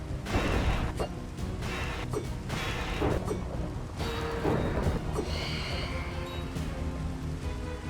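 A Minecraft thunderstorm rolls through with steady rain and repeated rumbling thunder crashes, mixed with scattered game effects at moderate loudness.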